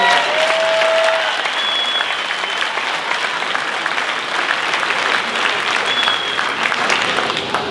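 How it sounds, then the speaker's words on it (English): A graduation ceremony audience for the Fir Ridge class of 2023 applauds in a sustained, dense wash of clapping that stays loud and steady from start to finish, with no break. "Can you give a big round of applause for all of you?"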